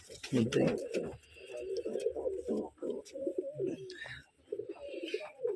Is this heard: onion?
no